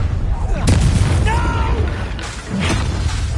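A Bombarda explosion spell goes off in Hogwarts Legacy, a booming blast with a bright crackling burst, followed by a second impact a moment later amid battle noise and voices.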